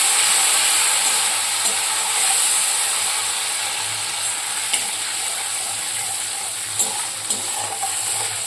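Water sizzles and hisses steadily in a hot pan while cooking mustard hilsa fish, with a continuous bubbling crackle and a few faint clinks, no voices.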